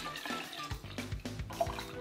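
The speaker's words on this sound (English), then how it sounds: "I'm gonna stir in 4 more cups of cold water to cool this down" Cold water pours and splashes into a pot of brine, stirred as it goes, giving close, irregular gurgles and sloshes over a couple of seconds.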